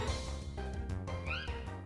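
A cat Pokémon's short electronic cry in Pokémon Black, a rising chirp heard over steady game music.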